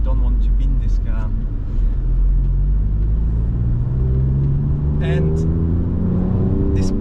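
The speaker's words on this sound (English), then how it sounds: "despite this being twin turbo engine, I think it sounds so much better than the F80 cars." A twin-turbo engine in an Alfa Romeo Giulia Quadrifoglio drones loudly and steadily up close, rising in pitch as it revs under continuous talk from people in the car.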